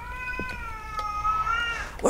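In the horror game Erie, a kitten lets out one long, clear, plaintive meow that rises and then fades.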